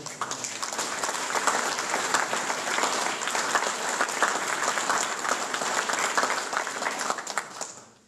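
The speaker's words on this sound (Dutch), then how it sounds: "En ik vraag u hartelijk applaus voor de top." Warm, sustained applause from a hall audience at a village heritage society's golden jubilee celebration, a dense steady wash of many hands clapping for several seconds before tapering off at the end.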